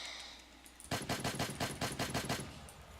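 A Minecraft modded gun fires in a rapid sequence of about a dozen loud, evenly spaced shots, in groups like three-round bursts, after a brief near-silent start, with no speech.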